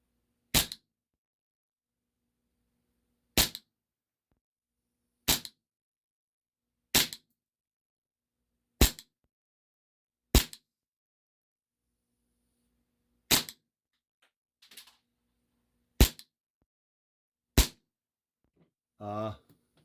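Sharp, isolated shots from a We Tech Bulldog 6mm gas blowback airsoft pistol fired at a target, about ten cracks spaced a second or two apart, each clean and close against an otherwise quiet background.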